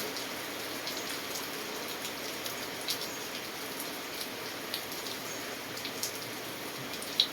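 Steady rain falls with a soft, even hiss, occasional louder drops pattering nearby on a surface.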